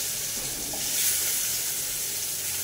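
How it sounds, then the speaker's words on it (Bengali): Chopped onions hitting hot oil with turmeric in a pan, a bright steady sizzle and crackle that swells briefly then settles into constant frying hiss, close and moderately loud with no talking. "তেল হলুদটা গরম হয়ে গিয়েছে, এখন পেঁয়াজ কুচিগুলা দিয়ে দিব"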